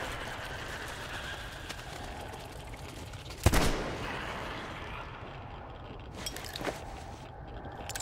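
Revolver gunshots in the Metro Exodus video game: one sharp, loud shot midway and a fainter second report a few seconds later, over dark ambient game noise without speech.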